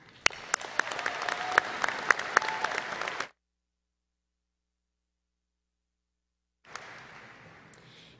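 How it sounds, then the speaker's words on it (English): High school graduation audience applauding the Class of 2019 at a ceremony, a dense clatter of many hands lasting a few seconds, then silence before fainter applause returns. "give my classmates a big round of applause"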